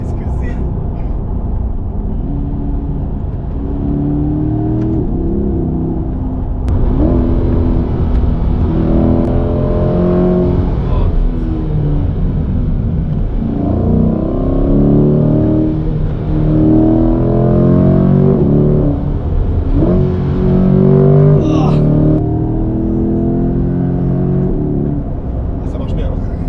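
A 500 hp car accelerates hard, its engine note climbing in repeated rising sweeps as it pulls through the gears, loud and close from inside the cabin, with occupants talking over it.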